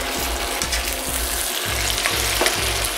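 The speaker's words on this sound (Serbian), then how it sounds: "dodajem beli luk i sve to zajedno pržim 3 minuta" Onion, carrot, tomato and garlic fry in a pan with a loud continuous sizzle and crackle, broken by repeated stirring scrapes, with no talking.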